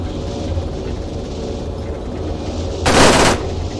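A short, loud burst of gunfire in the Arma video game, about half a second long and rising clearly above a steady background hum, with no talking.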